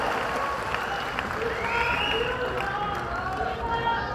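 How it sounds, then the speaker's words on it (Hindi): Audience applause welcoming a guest speaker at a UPSC/BPSC career guidance seminar in Patna, a steady wash of clapping and crowd noise throughout, with faint voices underneath. "तो जोरदार तालियों के साथ स्वागत कीजिए सुजीत सर का।"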